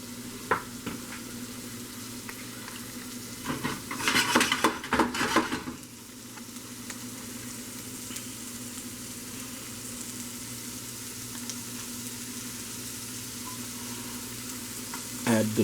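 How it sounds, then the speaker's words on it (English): Mushrooms sauteing in a hot pan give a soft continuous sizzle, with a burst of louder stirring and spatula clatter near the middle, then a quieter steady fry. "We have a hot pan going on. We're gonna let it get a little hotter. Add the mushrooms so you can start sauteing them."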